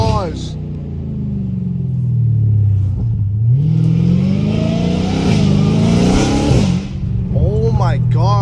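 Supercharged Dodge Challenger Hellcat Redeye engine revs loudly from inside the car, a deep rumble rising and falling with a strong high whine on top, while an excited voice exclaims between the rev surges.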